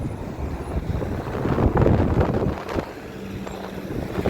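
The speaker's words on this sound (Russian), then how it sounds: "Вот смотрите, такой ураганный ветер сильный." Strong hurricane-force wind on a November walk, buffeting the microphone in rough, gusty rumbling surges that swell and ease over a few seconds.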